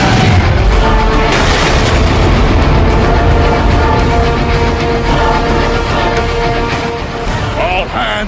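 Heavy weapon fire in the Transformers: Fall of Cybertron video game, with dense booming blasts and explosive bursts layered over a loud, continuous battle roar throughout.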